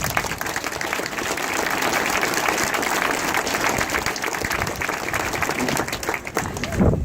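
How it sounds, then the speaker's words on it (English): Sustained applause from an audience for Minister Ring at a Mayo County Council event, a dense, steady wash of clapping that runs almost the whole time before tapering at the end, with some talk faintly mixed in. "I'd like to give him a big round of applause."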